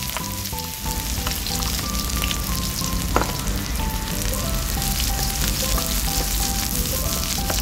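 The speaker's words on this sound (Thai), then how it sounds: "ตั้งกระทะค่ะใส่น้ำมันลงไปค่ะ รองให้กระทะร้อนนะคะเราก็จะเอาหอมแดงลงไปเจียวให้หอมนะคะ" Shallots sizzle and fry in hot oil in a pan, a steady, loud crackling sizzle with occasional light clinks of a utensil and no talk.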